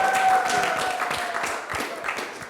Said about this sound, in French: J'aimerais qu'on applaudisse encore une fois pour Yolande